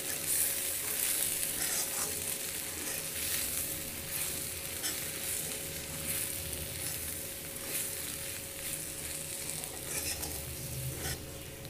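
Bhindi and kundru vegetables with red chilli and spices hiss steadily in a hot pan while a spoon stirs them, a close, continuous sizzle with soft scraping and no voices.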